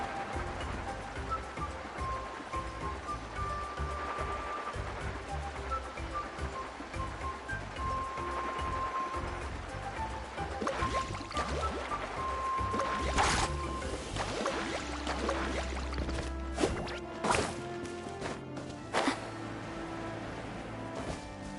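A boat in Genshin Impact carves through ocean waves, giving a continuous rushing wash of water with soft game music tones above it and sharper splashes toward the end.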